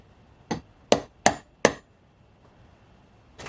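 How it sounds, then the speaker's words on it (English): A hole punch is struck through a piece of chest armor for a custom Mandalorian costume: four sharp, ringing hammer blows, the first one lighter and the last three evenly spaced, close up with quiet between hits. "I don't normally use a hole punch, but I'm using it this time because I don't want anything twisting."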